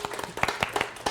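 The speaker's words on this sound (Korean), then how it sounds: "박수 한번 주세요" A church congregation gives a child a short burst of clapping, a handful of people whose distinct claps land quickly and unevenly at moderate loudness in a small room.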